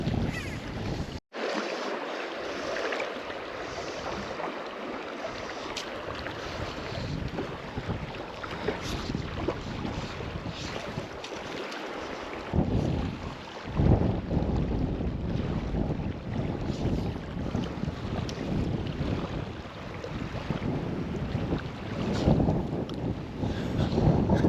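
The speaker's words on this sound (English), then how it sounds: "Jeez, it's that windy where it just destroys everything." Strong wind gusts buffet the microphone beside the Lower Owens River, a steady roaring rush that swells louder and rougher in the second half, with no talking.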